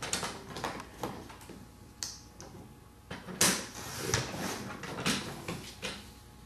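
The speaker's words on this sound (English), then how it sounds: "I'm going to take my cutter, and I'm going to cut it to 5 1/4" A paper cutter slices black cardstock, giving a run of sharp mechanical clacks and sliding scrapes as the blade and guide are worked, close and fairly loud.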